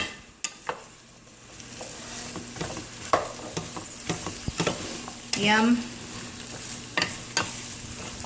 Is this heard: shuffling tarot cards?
no